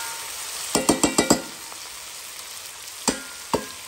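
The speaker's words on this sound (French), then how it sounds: "Mélange bien tout ensemble. Voilà, je vais mélanger." Rabbit stew with prunes being stirred in a hot pan: five quick scraping strokes in a row, then two more isolated scrapes, all over a soft, steady sizzle.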